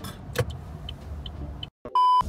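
A concrete truck working at a street construction site, heard as a steady low engine rumble with a few short beeps, then a brief gap and a loud sustained electronic beep near the end.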